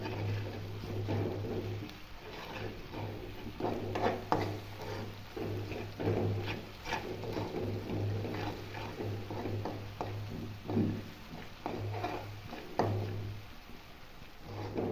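Coconut and garlic paste being roasted and stirred in a pan on the stove, giving steady scraping and clinking of the spoon against the pan over a low hum, with no talk.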